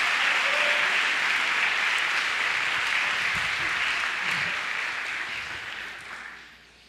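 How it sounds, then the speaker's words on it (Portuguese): A church congregation at a Sunday morning service bursts into sustained, dense applause that fills the room, then gradually fades toward the end. "Dê um aplauso ao Senhor."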